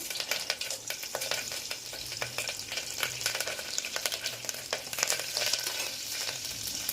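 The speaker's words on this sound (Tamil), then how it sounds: "இப்போ வந்து எண்ணெய் காஞ்சோடனே கருவேப்பிலை போட்டு" Busy crackling and spitting of curry leaves frying in hot oil, dense and continuous with sharp pops throughout, close by and with no talking.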